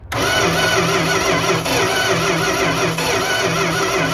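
The engine of a 1971 Plymouth Fury cranks over continuously with a rapid, rhythmic churning from the starter, loud and close, without catching.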